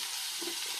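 Garlic sizzles in a pan while chicken is being cooked, a brief, even hiss of frying heard close and fairly soft, with no talking.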